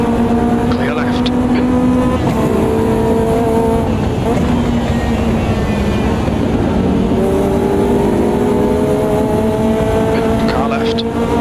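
Caterham 620R race car engine at Spa in 1970 trim from the game Automobilista 2, loud and continuous, with shifting revs and gear changes and other cars close by, as a spotter calls out positions throughout.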